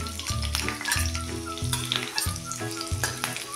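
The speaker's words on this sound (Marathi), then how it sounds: "हिरवी मिरची बऱ्यापैकी परतून घ्या, फारशी मऊ नाही ठेवायची, थोडी बरी भाजू दे।" Two finely chopped green chillies frying in hot oil and ghee, a close, busy crackling sizzle broken by rhythmic metallic stirring taps against the pan, steady throughout with no voices.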